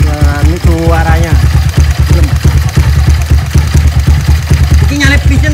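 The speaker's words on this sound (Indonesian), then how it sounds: "Mesin Tiger. Cekernya itu 68 piston CBR sama knalpot Altan lur." A Honda GL100 motorcycle fitted with a Tiger engine, a 68 CBR piston and an Altan exhaust idles with a steady, throbbing beat and a few brief revs, heard close while someone talks over it throughout.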